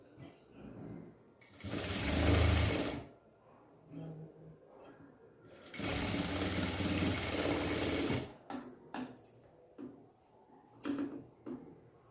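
Sewing machine stitching a miniature dress in two loud, steady runs of needle hammering, separated by pauses with small clicks and handling noises, close up.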